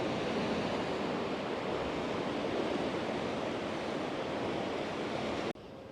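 Ocean waves breaking along a rocky volcanic shore in Tenerife, a loud continuous roar of surf and wind close by that cuts off abruptly near the end.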